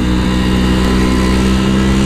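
An old Vespa scooter engine runs in a loud, buzzing, steady drone while being ridden. It sounds close and continuous, with no speech over it.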